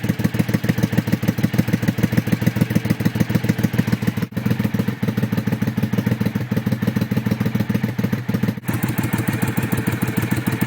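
A Triumph America motorcycle fitted with new exhaust pipes idles with a loud, rapid, even thumping beat at close range, the engine note holding steady with two brief dips.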